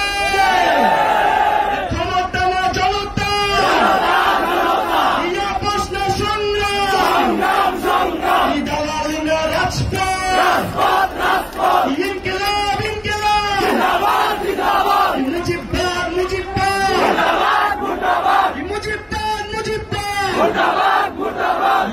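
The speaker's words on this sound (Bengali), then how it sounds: "চট্টগ্রামবাসী কি স্লোগান দেবে?" A large political rally crowd in Chittagong chants slogans in loud unison, in repeated rhythmic call-and-response bursts that fill the whole stretch without a break.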